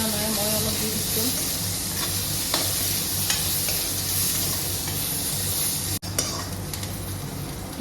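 Onions and two dried red chillies fry in hot oil in a pan, a steady close sizzle with faint stirring scrapes, broken once by a brief near-silent gap before the frying resumes.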